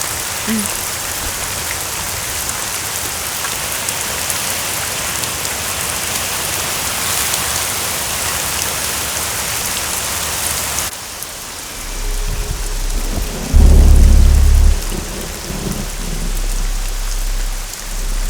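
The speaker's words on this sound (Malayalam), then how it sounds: "നന്നായിട്ട് ഇടിയും വെട്ടുന്നുണ്ട്" Heavy rain pours steadily throughout a thunderstorm; near the end a deep, loud rumble of thunder rolls in beneath the downpour.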